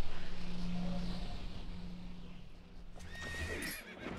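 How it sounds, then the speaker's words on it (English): A horse gallops in The Legend of Zelda: Twilight Princess, with quick rhythmic clip-clop hoofbeats, a whinny, and a brief game chime near the end. "Thanks for helping speed up my horse."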